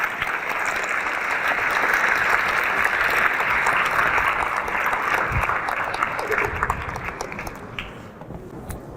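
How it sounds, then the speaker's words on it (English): A lecture-class audience gives sustained applause for singers, a dense steady clapping that fades slightly toward the end. "Let's have a round of applause for our singers."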